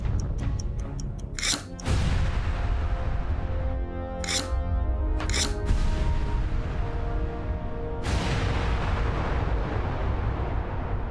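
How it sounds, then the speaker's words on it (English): A huge mine explosion at the Battle of the Somme produces a dense, continuous roar and rumble that fills the whole stretch. Several sharp, brief cracks and clicks cut through the opening seconds and again near the middle. "What followed was the largest man-made explosion up to that point in history."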